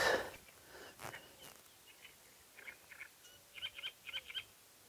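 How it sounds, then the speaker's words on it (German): A distant great reed warbler sings harsh, chattering phrases in short repeated bursts, faint against quiet outdoor ambience at a boardwalk after a brief rustle at the start. "Da singt also schon der Drosselrohrsänger."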